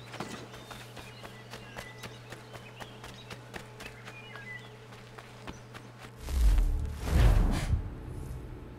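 Horse hooves clip-clopping in the Assassin's Creed 3 video game, a steady run of hoofbeats under ambient game sound, followed by a louder burst of movement near the end.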